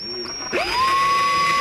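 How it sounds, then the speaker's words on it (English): A power drill whirs up to a steady high whine as it bites into a bowfishing arrow blank, close and loud, after a brief clunk. "we're just going to drill right in"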